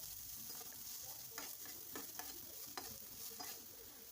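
Chopped onion and green chilies sauté in a pan for beetroot poriyal, a quiet continuous sizzle with repeated light scrapes and taps of a stirring spoon, heard close and alone.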